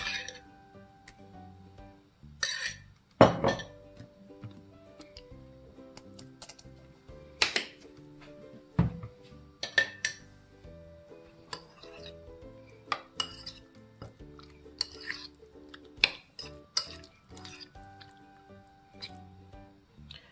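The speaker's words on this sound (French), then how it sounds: "Je mélange du ketchup avec de la mayonnaise sur les crevettes." Ketchup and mayonnaise are mixed into a cocktail sauce over shrimp in a dish, with scattered spoon clinks and taps against the bowl, soft squishy stirring between them and quiet gaps, close and intermittent.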